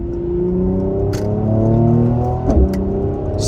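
Cabin sound of a Mercedes W205 C43 AMG driving at night, a steady low engine drone with layered harmonic tones that rise slightly, a brief bump near the end, no talking.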